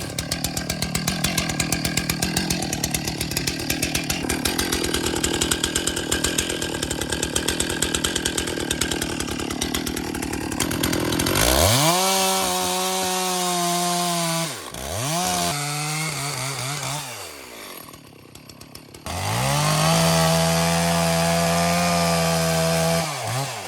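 A Husqvarna 362 chainsaw cuts through wood during tree logging in Norway, its loud steady engine whine running unbroken for about eleven seconds, then revving up and down in bursts as the chain bites and releases, close and alone.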